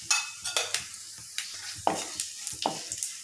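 A tempering of spices with turmeric frying in hot oil for a mango chutney, close crackling sizzle with bursts of sharp pops and spoon stirs against the pan, no talk.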